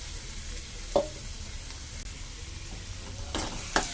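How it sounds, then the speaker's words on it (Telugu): Tomato paste frying in a pan over a medium flame makes a soft, low sizzle, with a few quick stirring scrapes and clicks and no one talking. "దీన్ని కూడా బాగా పచ్చివాసన పోయే వరకు ఫ్రై చేసుకుందాం మీడియం ఫ్లేమ్లో పెట్టుకుని చేసుకుందాం"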